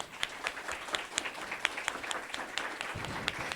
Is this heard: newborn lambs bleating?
no